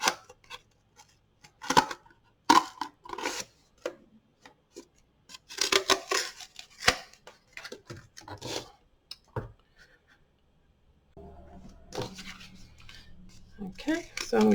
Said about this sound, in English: okay, so I'm going to go ahead and cut them out.